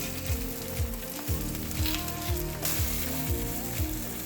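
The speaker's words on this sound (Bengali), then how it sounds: "ডিমটা আমি একটু বড় করে ভাজবো যেন পাতলা হয়" A thin egg fries in a pan for an Iranian-style party dish, giving a steady hot sizzle with short repeated scraping strokes at an even rhythm, close and alone.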